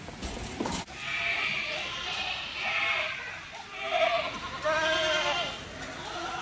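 Goats bleating repeatedly while being fed fresh whole lucerne at a trough, several loud wavering calls overlapping at close range over a murky farmyard background.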